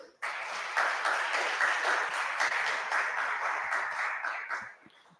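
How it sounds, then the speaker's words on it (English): An audience at an HR tech conclave session gives the speakers a big round of applause, a full, steady burst of many hands clapping that swells quickly and fades out after about five seconds. "A big round of applause for all the speakers."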